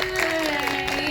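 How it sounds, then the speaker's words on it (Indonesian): A brief patter of applause at a film press conference for the debut of young actress Mima Syafa, fairly close and steady, mixed with a sustained tone and murmuring voices. "Tepuk tangan untuk debutnya nih."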